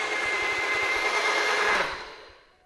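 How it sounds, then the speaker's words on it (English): NutriBullet blender whirring through coffee with oil and butter, a loud close motor whine sustained for about two seconds before fading away. "you're gonna hear the blender kick in"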